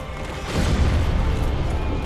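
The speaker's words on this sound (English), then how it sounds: "A couple explosions." Explosions during the Stray Demon boss fight in the video game Dark Souls: a deep booming blast swelling after a half second and rumbling on loudly to the end.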